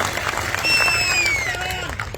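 Crowd at an outdoor political rally in Maharashtra applauding in a steady wash of clapping and cheering, with a speaker's voice carrying over it through the loudspeakers.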